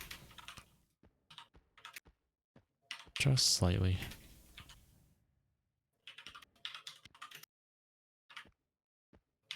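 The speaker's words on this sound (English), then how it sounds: "my friend's microphone picks up his typing" Keyboard typing from a friend's condenser microphone during an online game session, scattered light clicks in short bursts, with a brief stretch of speech and other noise in the middle.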